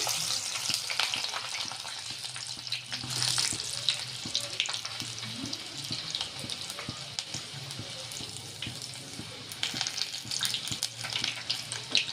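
Peeled garlic cloves fry in hot oil with a steady, close crackling sizzle, punctuated by occasional sharper pops and faint scraping, continuous throughout with no voices.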